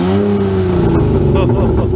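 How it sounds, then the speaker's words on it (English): Close, loud revving of a tired old car engine, the pitch rising and sagging across two seconds in a raspy, sustained roar with a brief voice underneath. "A little bit more vroom."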